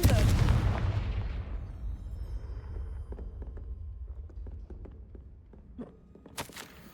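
In Hogwarts Legacy, a Confringo blasting spell hits a gate with a loud, close boom that decays over about two seconds, followed by light footsteps and small clicks in a quieter space.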